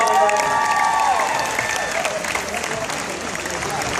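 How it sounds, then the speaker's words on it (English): A live audience at a Fear Factor Live stunt show breaks into loud, dense clapping and light cheering that holds steadily for several seconds, with a voice briefly audible over it at the start. "Give her a round of applause"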